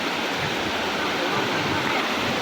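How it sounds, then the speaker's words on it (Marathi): A powerful, unbroken roar of rushing water, loud and broadband, from standing near Palasdari waterfall near Karjat, with no other sounds standing out. "आणि मेन तुम्हाला आता धबधबा दाखवतो मी"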